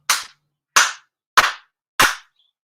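Four sharp, evenly spaced hand claps ring out at a Shinto prayer service. Each is loud and close with a brief decay, spaced about two-thirds of a second apart, and there is silence in between.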